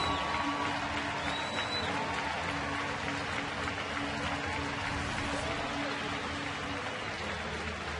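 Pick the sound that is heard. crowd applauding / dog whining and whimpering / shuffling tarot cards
crowd applauding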